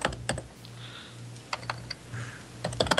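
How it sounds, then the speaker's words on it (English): Heavy, hard-struck typing on a computer keyboard, bursts of loud clacking keystrokes separated by brief pauses, close and alone with a steady low hum beneath. "For comedy value, the sound of the typing is actually funnier than the talking."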